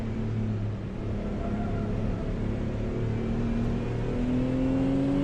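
The original BMW M5 drones steadily on a foggy track lap, its engine note heard from inside the car and climbing gradually in pitch as it accelerates out of a corner, with no talking.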